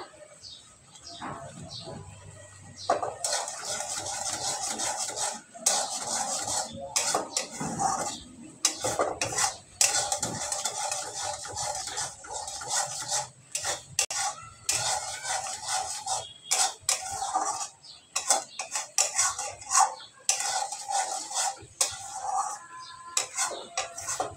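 A spoon scraping and clinking against a pot while ground white cardamom is stirred in, a steady run of close metallic taps and scrapes with a brief voice near the start.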